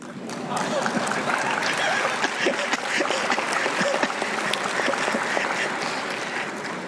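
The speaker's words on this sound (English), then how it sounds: "It's okay to applaud." Audience applause breaks out at the 106th session of the International Labour Conference, a steady wash of many hands clapping that stays loud and dense throughout, with no one talking over it.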